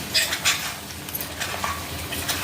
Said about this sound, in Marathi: तोपर्यंत चिकन छानपैकी हलवून घ्यायचं आहे एकसारखं